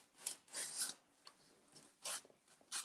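A Dixie Belle sanding sponge rasps against a painted furniture edge in short, quiet bursts of strokes, with brief pauses between passes, distressing the paint.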